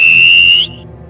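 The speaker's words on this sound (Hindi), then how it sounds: "पर तभी मुझे दोबारा सीटी की आवाज़ सुनाई दी।" A single high, steady whistle tone holds loud and clear for about half a second, rises slightly at the end, then fades quickly, with a low hum underneath.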